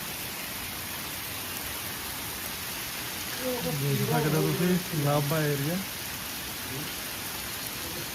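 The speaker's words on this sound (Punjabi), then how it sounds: "ਬਹੁਤ ਹੀ ਭਾਰੀ ਬਾਰਿਸ਼ ਹੈ" Heavy morning rain pours over farm fields near Nabha, Punjab, in a constant dense roar, with someone speaking briefly over it midway.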